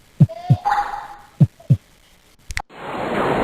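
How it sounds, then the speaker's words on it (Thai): Two pairs of deep heartbeat thumps pulse in a slow double rhythm in the horror video game The House, with a faint tone and a brief clatter, then a burst of hiss. "มีเสียงหัวใจเต้นตุบๆด้วยครับ"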